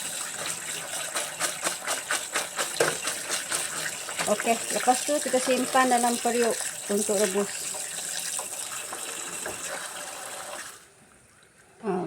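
Tap water runs steadily while food is washed in a kitchen sink, the splashing flow continuing under someone speaking Malay before it cuts off near the end.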